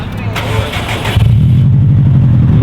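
A Subaru STI with a newly fitted N1 exhaust revs, the engine note rising sharply then settling into a throbbing burble, loud and close while people talk over it.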